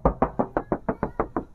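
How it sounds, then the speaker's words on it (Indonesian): Nine evenly spaced knocks of knuckles on the metal left-side body panel of a 2021 Toyota Rush GR 1.5 manual, each a dull, close, resonant thud in a steady rhythm with no talking. "coba Om Salim ketokin dulu."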